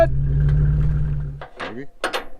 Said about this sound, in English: Back it up, Terry.